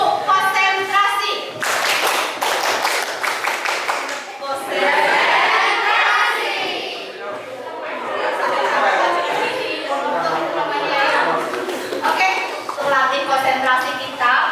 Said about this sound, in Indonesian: mari kita mulai tepuk konsentrasi.